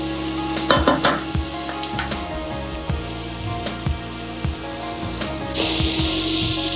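Paneer and vegetables stir-fry in a pan over high heat, loud hissing sizzle broken by repeated scraping and tossing knocks from a utensil, with a sharp surge of sizzle near the end.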